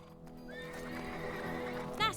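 Horses in Lego Marvel Super Heroes 2 neigh with a drawn-out whinny over a low background bed, ending in a short sharp whinny burst.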